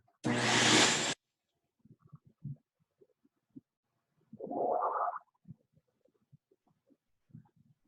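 A vacuum cleaner blowing air to keep a lacrosse ball floating roars for about a second in a loud, airy burst, then falls silent, leaving only faint scattered knocks and shuffles.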